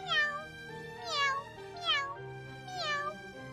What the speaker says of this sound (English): Well, this cat's happy, so I'll let you off easy just this once.